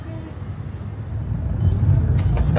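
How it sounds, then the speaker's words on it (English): Steady low rumble of road traffic in Kathmandu on the way to the airport, vehicles passing continuously and growing slightly louder toward the end, with no voices. "The traffic."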